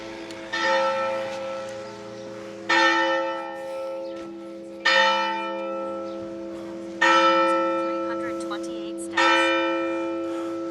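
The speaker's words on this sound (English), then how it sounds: "Church bell." A large church bell tolls five times at a slow, even pace, each strike ringing out and fading into the next, clear and fairly close.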